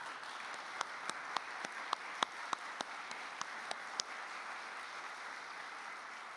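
Sparse, distinct handclaps in a slow, irregular rhythm, about a dozen claps, faint and set against a quiet room tone, as congratulatory applause for a professor at a university ceremony.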